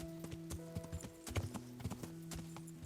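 A horse's hooves clip-clop in the medieval video game Kingdom Come: Deliverance, an irregular run of hard, close knocks over a steady low tonal hum.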